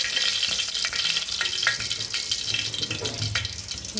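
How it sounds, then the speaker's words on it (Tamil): Water droplets sputter and pop in hot cooking oil in a home kitchen, a continuous busy sizzle with sharp crackles scattered throughout and no voices. "அது தண்ணி வந்து சூடாகவே வந்து வெடிக்குது"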